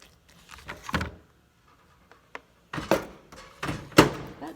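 Kitchen doors or cabinet doors clunk and thump in short bursts, with several knocks and bumps separated by quiet gaps. Sounds are close and moderately loud.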